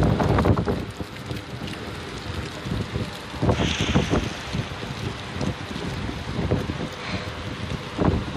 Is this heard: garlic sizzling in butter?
no